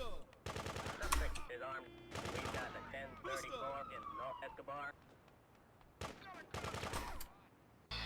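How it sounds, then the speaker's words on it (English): Gunfire from dangerous weapons in the top-down video game GTA 2, set in an industrial area, as several loud bursts of shots amid a busy mix of game sounds with a police siren wailing through it. "Damn, dangerous guns."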